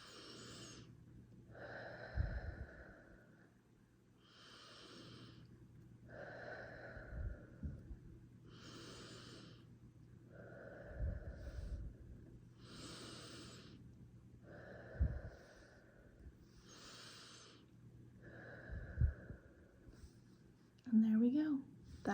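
Slow deep breaths in and out through a homemade mindful breathing stick, each exhale a soft hollow whistling rush, repeating in an even rhythm about every two to three seconds, close and quiet.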